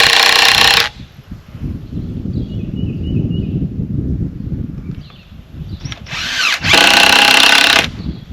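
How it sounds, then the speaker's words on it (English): A power drill driving screws into a fence post to hold 9-gauge galvanized fence wire, with two loud, close bursts of drilling at the start and end and quieter outdoor handling noise between. "All I'm doing is putting in some screws to hold the wire when I put it up"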